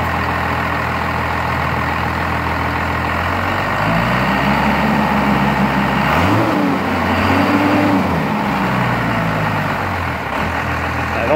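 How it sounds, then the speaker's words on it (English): Truck engine with an RPM and pedal adapter board running on a stock tune, a loud steady idle with low rumble that rises into a couple of revs partway through, heard close and alone. "So I'm going to start it up."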